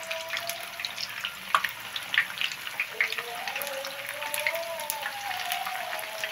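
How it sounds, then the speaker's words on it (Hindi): Beef kofta fry in oil in a kadai over a medium flame, a dense crackling sizzle with scattered sharp pops, close and fairly loud, while a faint tonal whine drifts in the background. "मीडियम फ्लेम पे हम इसे फ्राई करेंगे"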